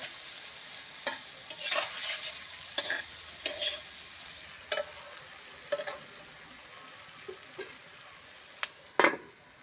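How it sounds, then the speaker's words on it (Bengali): A spatula stirs tengra fish curry with winter radish in a pan in irregular bursts of scraping and clacking against the metal, over a quiet sizzle. No speech is heard. "এবার একটু নেড়ে চেড়ে ঢাকা দেবো"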